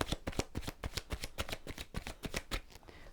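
Tarot cards being shuffled by hand, a quick run of crisp riffling snaps and soft slaps in steady rhythm, close and clear with no voices.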